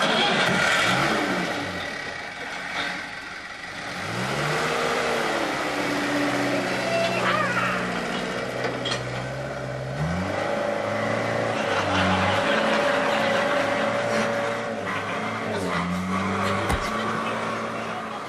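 A Land Rover's engine revs and strains as it drives off-road, the note rising and falling loudly and steadily across the whole stretch, with a brief voice and clatter briefly mixed in.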